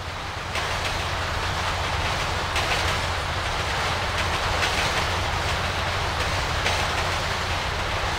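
A freight train rolls steadily along the rails in GTA V, a loud continuous rumble and rattle of wagons with faint clickety-clack, heard alone without voices.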